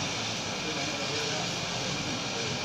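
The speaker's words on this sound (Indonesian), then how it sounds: "Kenapa pesawat ini lewat terus?" Airplane passing overhead during an outdoor religious Q&A gathering, a steady broad roar that holds at even loudness through the whole stretch with no other clear sounds above it.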